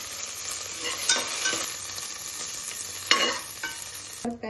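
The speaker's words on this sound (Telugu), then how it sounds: "మీరు పచ్చిమిరపకాయలు వేగినాక మట్టికాయలు ఎలా వేయించాలో చూపిస్తాం" Green chilies frying in hot oil in a pan, a bright continuous sizzle with a couple of sharper stirring scrapes, close up, ending in a brief clatter, no talk.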